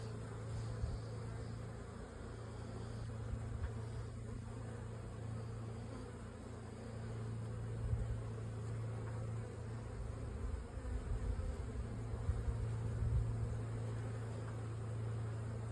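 Honeybees buzzing around their hives on a day when the colonies are active, a steady low drone of many insects close by with occasional louder passes, no voices.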